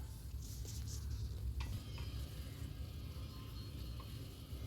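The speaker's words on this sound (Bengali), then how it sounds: "খুব সুন্দরভাবে টমেটো সসের সাথে মশলাটাকে আমি ভালো করে মিশিয়ে নিলাম" Spice masala mixed with tomato sauce in a pan for a Bengali katla fish curry gives a low, continuous frying sizzle with soft scraping stir strokes and a couple of light utensil taps, close and fairly quiet.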